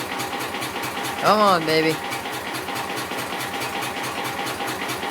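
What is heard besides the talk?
tractor engine cold start, idling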